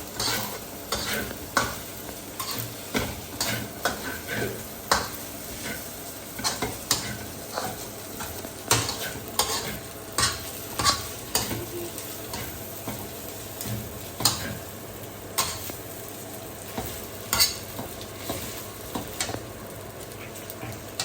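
A spatula scrapes and clicks against a pan in a repeated stirring rhythm as a stir-fry with a spoonful of oyster sauce cooks, with a steady sizzling hiss underneath.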